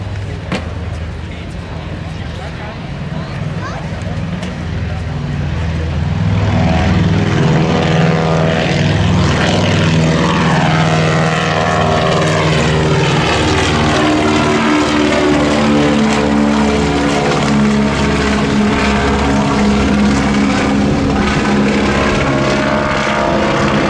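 Fokker Trimotor, the Southern Cross II, flying at an airshow at Shellharbour: a loud, steady drone of piston engines and propellers that swells and stays strong and continuous throughout, with a voice talking over it.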